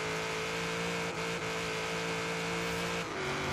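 Steady engine drone of a modified KITT-style car in Forza Horizon 3 with more horsepower than factory spec, sustained and loud with a slight dip partway, tires audible under the engine and no talk.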